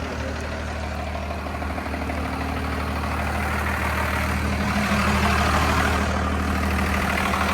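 An old first-generation Cummins diesel truck engine, abandoned for years, idles steadily with a loud, low, continuous rumble close by.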